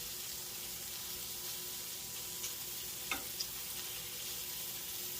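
Kielbasa sausages frying in a pan give a faint, steady sizzle, broken by a few quiet clicks as they are moved around.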